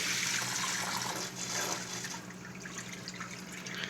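Steady, close bubbling and gurgling water from an air pump in a reptile tank runs continuously with a constant low hum underneath, no voices.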